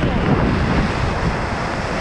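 Sea waves and surf wash in steadily at a beach used for sea kayaking at Vääna-Jõesuu, while strong wind buffets the microphone in a constant loud roar.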